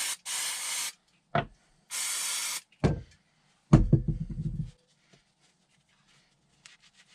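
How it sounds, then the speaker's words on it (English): Brake cleaner sprayed onto Triumph Speed Triple 1050 motorcycle wheel parts to clear burrs and filings: two sustained hissing sprays with short bursts and clanks of handled parts between them. "give it a little clean down as well with something like brake cleaner, just to get rid of all the burrs and filings"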